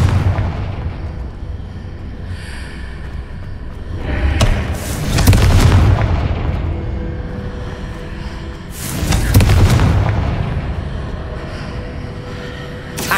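Confringo fire spell cast in Hogwarts Legacy, landing as two heavy booming blasts several seconds apart, each with a deep rumbling thud and a crackling burst, over a steady low game ambience.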